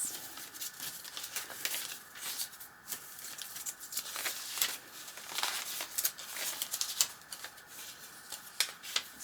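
Foreign-language papers and vintage postcards are handled close up, giving irregular crinkles, rustles and dry paper flicks at a soft level with no talking.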